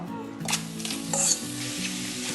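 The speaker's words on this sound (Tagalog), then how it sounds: "Now it's time to put the chicken." Chicken pieces go into a hot pan, setting off a close, steady sizzle and frying hiss, with a couple of brief louder bursts as the meat lands. No one speaks.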